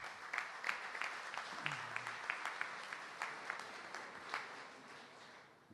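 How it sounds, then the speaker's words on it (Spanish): A university audience applauds a guest at a public lecture, a soft, distant patter of many hands that rises and falls in small bursts for several seconds before fading out. "Para él pido un aplauso"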